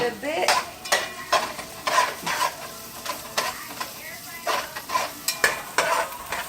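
Garlic and onions saute in an already hot Dutch pan, with a steady sizzle broken by repeated scraping strokes of stirring, close and moderately loud, with no talk.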